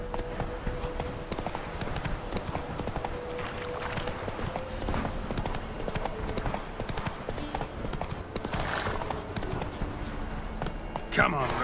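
Roach the horse gallops in The Witcher 3, hooves drumming in a rapid continuous clip-clop beneath ongoing game sounds and a voice.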